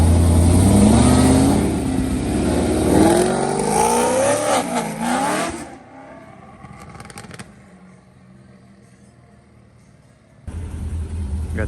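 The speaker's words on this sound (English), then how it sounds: "Got the C6 leaving." Chevrolet Corvette C6 accelerating hard away from a car meet, a loud close engine roar with rising revs that fades into the distance, leaving quiet before another vehicle sound rises near the end.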